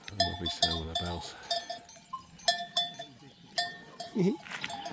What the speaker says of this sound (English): Very beautiful. Especially their bells.